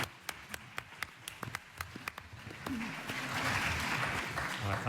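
Scattered audience claps for the Grumpies, sharp individual hand claps at first, then swelling into denser, louder applause toward the end.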